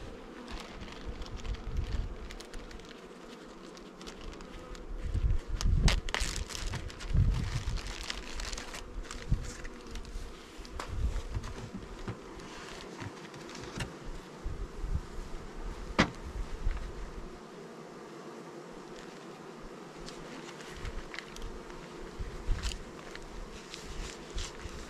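Honey bees hum and buzz around an open hive box as it is worked, a close, continuous swarm drone with faint rustling and knocking of hive parts underneath.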